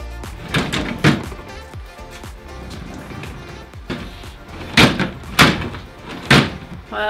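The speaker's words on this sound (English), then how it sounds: "they're catching on the wheels when I push in the drawer" A wheeled drawer on a refinished bedroom set is pushed in and out, making a series of sharp wooden knocks and thunks with rolling scrapes between them, close and irregular, clustered in bursts.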